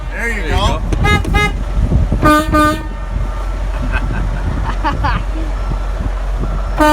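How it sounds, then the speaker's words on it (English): A Freightliner truck's horn blasts loudly and close by in a few short honks of varying length, with people talking around and between the blasts. "I'm gonna take a horn blast right there"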